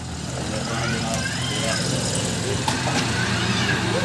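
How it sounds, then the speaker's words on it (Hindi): A car driven in by a mechanic, its engine running close by in a steady low drone with broadband road noise, voices talking over it throughout. "अभी जी उस्ताद असलम गाड़ी लेके आ रहा है।"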